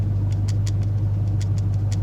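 Inside a moving C5 Corvette, the driver's side sun visor gives off quick, light rattling ticks at irregular intervals above a constant low engine and road hum, with no talk.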